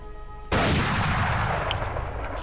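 Sniper rifle fires a single loud, sharp shot in a video game, with a heavy boom and a long, rumbling decay trailing off over a couple of seconds, and no speech over it.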